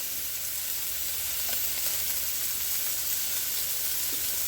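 Pork pieces sizzling and frying in a pan, a steady crackling hiss with occasional small pops, close and unbroken throughout.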